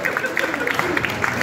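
Audience applause at a concert at the Revolver Club in San Donà di Piave: a brief burst of dense clapping with crowd murmur, loud and close, lasting only a moment.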